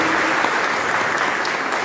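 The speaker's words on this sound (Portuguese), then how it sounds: "Uma salva de palmas para ela." A congregation in a chapel applauds during a Sunday mass for the feast of Saint Francis of Assisi, dense and steady clapping from many hands filling the room.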